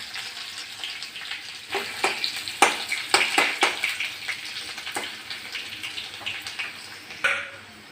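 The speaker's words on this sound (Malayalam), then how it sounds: "കടുക് പൊട്ടിക്കഴിഞ്ഞതിന് ശേഷം വെളുത്തുള്ളി ഇട്ടു." Garlic frying with mustard seeds in hot coconut oil, a soft sizzle broken by sharp crackles and pops at irregular intervals, close but moderately quiet.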